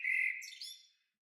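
A short bird chirp sound effect from a video game, a single bright, clear tweet with a quick trailing flutter that fades within a second, alone and without talk.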